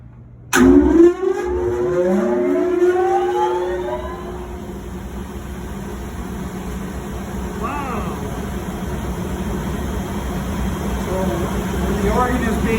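A pipe organ's electric blower spins up abruptly with a loud onset, then a rising turbine-like whine that climbs and settles into a steady drone over a low continuous hum.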